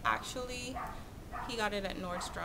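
A small dog barks in short yips indoors, several bursts at moderate volume, while someone talks over it.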